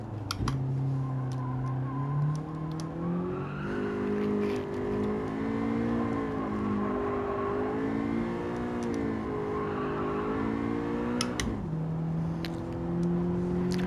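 A car driven in the racing game Gran Turismo 7 drones with a steady engine note that climbs and dips through gear changes, shifting down sharply near the end, continuous and close with no talk.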